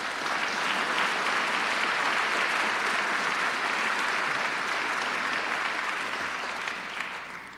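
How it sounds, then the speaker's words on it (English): An audience at a New York State budget event applauds for MTA head Tom Prendergast, sustained, even clapping from a large crowd that holds steady for several seconds before easing off. "Let's give him a round of applause."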